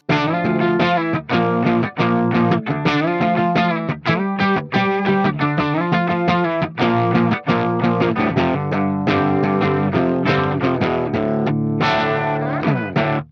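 A clean electric guitar plays a continuous riff of picked notes and chords through a Sound Lab ML800 amp plugin, bright and steady with no vocals.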